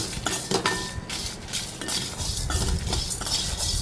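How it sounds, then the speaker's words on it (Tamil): Metal spoon scraping and clinking against a pan while horse gram and spices dry roast over low heat, a busy continuous rattle of stirring and grainy scuffing, close and fairly loud. "நல்லா சிம்லேயே வச்சு ட்ரை ரோஸ்ட் பண்ணுங்கள்"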